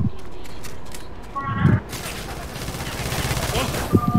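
Rapid gunfire from Left 4 Dead 2 plays as bursts of automatic shooting and shots, loud and close, mixed with players talking and game noise over a steady background.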